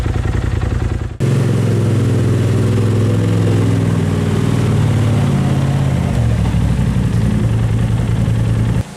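A Polaris RZR Turbo S side-by-side fitted with a Trinity aftermarket exhaust idles close by, a steady deep burbling drone with a brief cut-in at the start and a slight pitch drop near the end.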